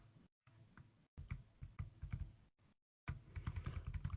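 Keystrokes clatter on a computer keyboard as a Linux device path is typed, quick irregular taps in short bursts separated by brief pauses, close and fairly quiet.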